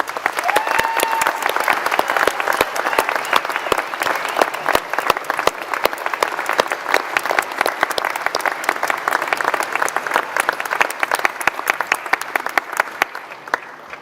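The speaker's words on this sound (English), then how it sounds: "please join me in giving them a heartfelt round of applause" Sustained audience applause at a University of South Wales graduation ceremony, a dense, even wash of many hands clapping that holds strong before tapering slightly at the end.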